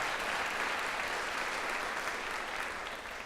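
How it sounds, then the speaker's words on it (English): Audience applause at a school all-county jazz band concert, a steady, full wash of many hands clapping that holds evenly for a few seconds and tapers slightly at the end. "Please give him a nice round of applause."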